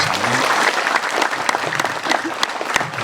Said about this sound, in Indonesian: Tepuk tangan dengan sarang-sarang.